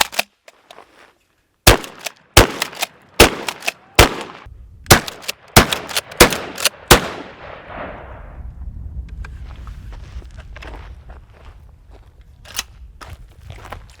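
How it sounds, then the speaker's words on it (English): A Benelli SuperNova pump-action shotgun fires at targets outdoors, producing about nine sharp, loud blasts at uneven intervals of under a second, followed by softer handling noises and faint rumble. "I had a lot of fun shooting this Benelli SuperNova today"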